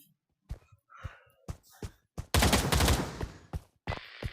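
Gunfire in the VR shooter Pavlov VR: scattered single shots, then a loud sustained automatic burst, followed by a few more sharp reports, close and with no talking.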